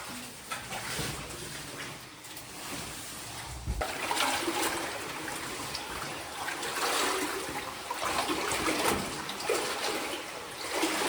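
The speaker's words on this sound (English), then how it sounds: "once we get into that stream, we're just gonna keep heading straight towards the waterfall" Water from a stream in a cave rushes and splashes continuously nearby, a broad, hissing flow that swells and surges unevenly throughout, with no voices.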